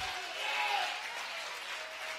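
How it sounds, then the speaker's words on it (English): A church congregation claps during a Sunday service, a soft, blended wash of many hands heard from a distance, fairly faint, with some voices under it. "Somebody give the Lord a clap offering today."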